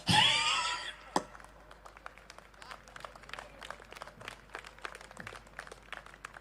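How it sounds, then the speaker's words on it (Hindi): Audience applause at a live comedy show, a loud burst of clapping at the start that quickly thins into scattered, faint claps continuing in the background. "कसम खुदा की ऐसा गलत टाइमिंग से ताली बज रही है"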